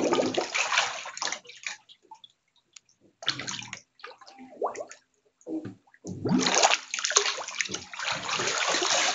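Water splashes and sloshes in a bathtub in several bursts separated by short quiet gaps, with the loudest, longest churning near the end.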